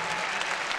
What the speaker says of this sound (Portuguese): Aplausos para Baby Carreiro!